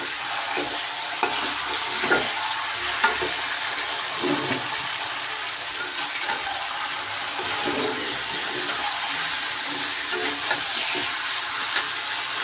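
Meat stir-fried in a large karahi with browned onions, a steady close hiss and sizzle running throughout with scattered scraping stir strokes, no voices.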